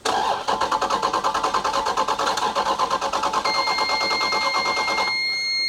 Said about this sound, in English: It doesn't appear like she's going to start.